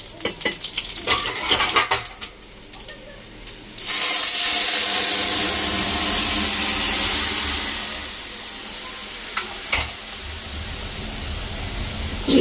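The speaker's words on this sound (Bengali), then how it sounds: "মৌ এদিকে ফোড়ন দিচ্ছে।" Spices tempering in hot oil in a home kitchen pan: clinks of utensils and pot at first, then a loud, sustained crackling sizzle that gradually eases, with a few metallic knocks near the end.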